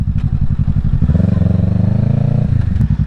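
A 2023 Kawasaki Ninja 650 with a loud Yoshimura Alpha aftermarket exhaust idles close by, its deep, lumpy rumble pulsing steadily with a slight rise in the middle.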